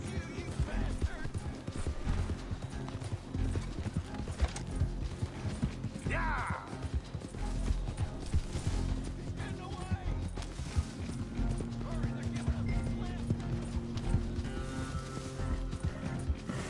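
A horse gallops in Red Dead Redemption 2, its steady hoof clatter running under game music and mechanical creaks while a person talks over it.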